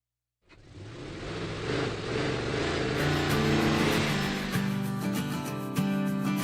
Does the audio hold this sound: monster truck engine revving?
yes